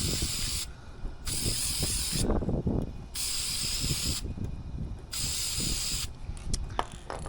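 Filter oil is sprayed from an aerosol can onto an air filter in about four close, loud hissing bursts, each lasting around a second, with short quiet gaps between them.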